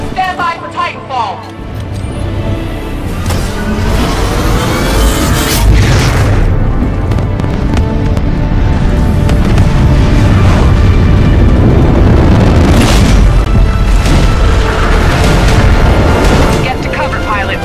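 Heavy booms and explosions erupt in Titanfall 2 as Titans land at an airbase during battle, with rumbling impacts, gunfire and crashes filling a loud, dense stretch while voices talk over the action.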